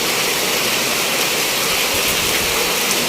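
Heavy monsoon rain in a Bangladeshi village pours down in a dense, steady hiss, loud and unbroken throughout, with no voices.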